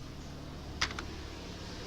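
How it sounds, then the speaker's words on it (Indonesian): The tab key on a computer keyboard is pressed while formatting a Microsoft Word document, giving one faint, crisp keystroke followed by a softer release click over quiet background hiss. "Kemudian tekan tab lagi."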